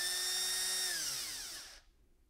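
A power drill drives screws while a homemade TV antenna is assembled, giving a high whirring whine that winds down and drops in pitch before stopping, close but fairly quiet.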